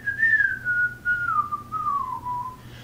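Solo human whistling of the Disney Robin Hood theme song, a single clear close melody sliding gradually lower over a few seconds with no talk.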